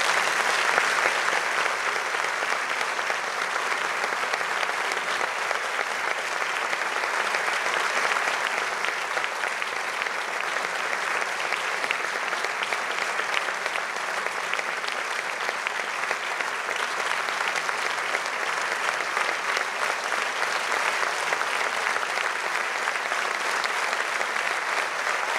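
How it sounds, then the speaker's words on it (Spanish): Warm, sustained applause from a gala audience for four guests at a traditional dance celebration, a dense unbroken wash of clapping that holds at an even level the whole way with no talking. "les demos un caluroso aplauso conjunto"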